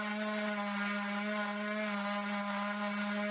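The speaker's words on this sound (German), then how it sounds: "Die 1 mm Aluminiumplatte, die hier gefräst wird, bringt die Maschine an ihre Grenzen" A homemade CNC machine built from hardware-store materials mills a 1 mm aluminium plate, a steady high-pitched motor whine with a strong tonal hum and faint cutting chatter, continuous and close.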